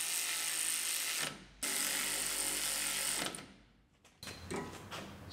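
A ratchet cranks in quick bursts of clicking to bolt a brake bracket onto a rolled-over Chevrolet Silverado under rebuild, close and loud, with a brief pause and a softer stretch of clicking near the end.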